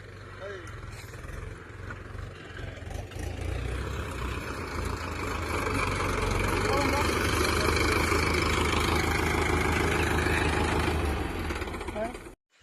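A Mahindra 575 tractor engine runs steadily at close range with a low rumbling drone, rising slightly in loudness after a few seconds, while people talk over it.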